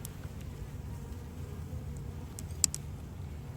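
Honeybees buzz faintly around an open hive during an inspection, making a soft, steady outdoor drone with a few brief ticks and knocks.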